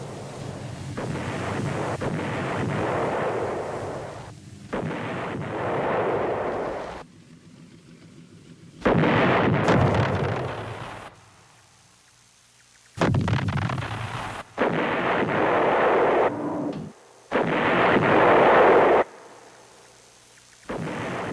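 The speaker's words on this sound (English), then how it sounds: "The battle for the combat base had settled into a straight fight between American and North Vietnamese gunners." Heavy artillery fire at the Khe Sanh combat base in the Vietnam War comes as long, loud booming rumbles, with quieter gaps between the bursts.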